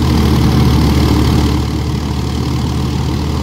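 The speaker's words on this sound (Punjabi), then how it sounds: "ਆਹ ਦੇਖੋ ਟਰੈਕਟਰ ਆਵਾਜ਼ ਬਲਦਾ" A tractor engine labours in low first gear pulling a straw reaper through a wet field, a loud, steady, close diesel drone that eases slightly partway through and continues without a break.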